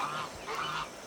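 A goose honks outdoors in a nature setting, giving two nasal calls in quick succession at moderate volume over a hiss of background ambience.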